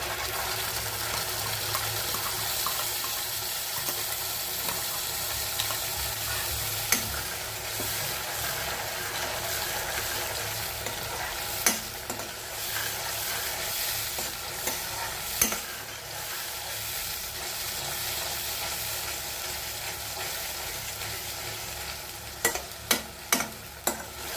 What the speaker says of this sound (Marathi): आता आपण त्यामध्ये वाटलेला टोमॅटो परतून घेऊया